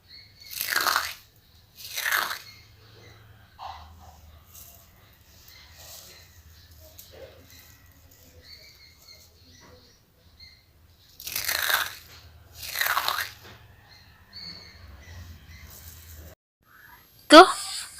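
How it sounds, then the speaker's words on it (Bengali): Crisp fried jhuri bhaja is bitten and chewed close up, four sharp crunchy bursts in two pairs separated by a long quiet stretch, with faint handling noise between. "আওয়াজটা শুনে বুঝতেই পেরেছেন কতটা কুড়মুড়ে হয়েছে, একদম দোকানের মতো"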